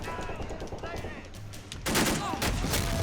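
Battlefield gunfire in Men of War: Assault Squad 2 during the assault on Pointe du Hoc, a steady rattle of shots that swells into a louder burst of fire near the end.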